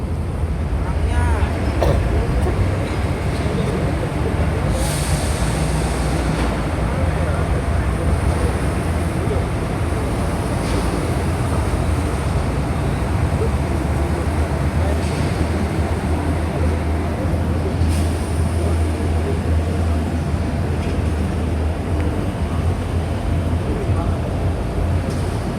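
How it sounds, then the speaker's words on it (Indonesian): A locomotive moves during unloading at the JCT terminal in Tanjung Priok port, giving a steady low engine rumble and rolling noise with occasional high squeals over the continuous din. "Nanti lokomotifnya akan mundur ke belakang dan akan digantikan dengan lokomotif yang keempat"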